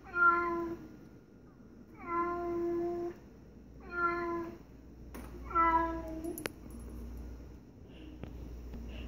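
A cat meows four times in a steady rhythm, each call a clear drawn-out tone, played back through a Google Home smart speaker with a faint click near the end.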